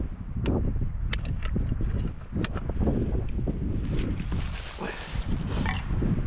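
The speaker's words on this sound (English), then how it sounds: "Wind blowing." Wind gusting through Douglas fir forest while firewood is being cut, a loud continuous rushing roar with rustling and scattered sharp knocks and crackles throughout, close to the microphone.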